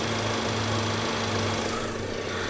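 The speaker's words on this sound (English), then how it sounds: "If you're wondering why the car is on and I'm trying to talk over that" A Mk6 Volkswagen GLI idles nearby with a steady, even hum and faint vibration, running continuously without a change in pitch.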